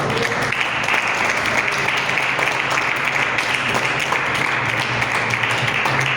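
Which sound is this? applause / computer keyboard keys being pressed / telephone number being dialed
applause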